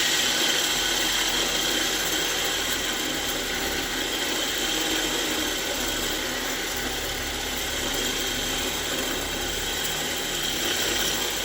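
A polishing machine runs continuously against a cuckoo clock part, a steady, dense mechanical whirr with gritty rasping held at an even level throughout, close and loud with no voices.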